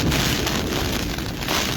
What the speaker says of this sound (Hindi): तो आप बिजली की गर्जन सुन सकते हैं कि कितनी तेज जो है वो हो रही है और बारिश जो है